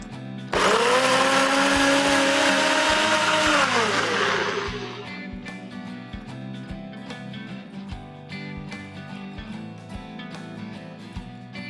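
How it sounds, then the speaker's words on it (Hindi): A mixer grinder whirs loudly as it blends soaked, pitted dates with vanilla extract for paan shots, a steady high roar for about four seconds that drops away into a duller, rattling spin-down with clinking. "मिक्सी में पीस देंगे।"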